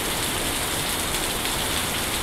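Steady, heavy rain from Typhoon Verbena pours down in Bohol, a dense continuous hiss with no break and no voices.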